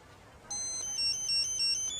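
A newly bought cell phone rings with a bright electronic ringtone, a repeating high tone pattern sounding steadily and fairly close, with no talk over it.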